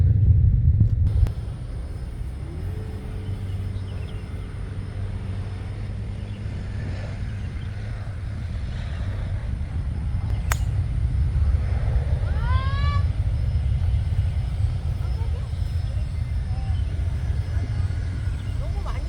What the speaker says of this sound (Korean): 아, 비행기가 와 비행기 소리 그렇고 멋있다.